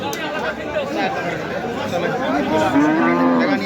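Cattle low at a rural livestock market in Bangladesh, a couple of drawn-out moos rising over steady crowd chatter and nearby voices.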